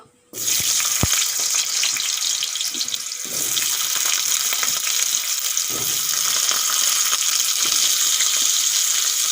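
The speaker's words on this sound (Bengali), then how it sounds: "তেল গরম হয়ে গেছে আলুগুলো ভেজে নেব" Potatoes fry in hot oil in a pan, a loud, steady sizzle that bursts in abruptly and holds unbroken close by with no talking.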